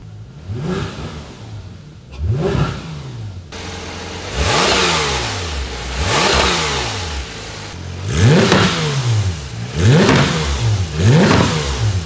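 A Porsche GT3 RS engine revs repeatedly through a titanium exhaust, each blip rising sharply in pitch and falling back, loud and close, with several rev bursts in succession over a steady idle.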